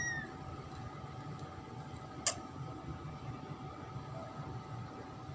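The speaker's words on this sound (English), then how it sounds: "This is the second cute kitten of my adorable pet cat." A small black, orange and white kitten gives a few faint, high mews at the very start, then a sharp click, over a steady low indoor hum with no talking.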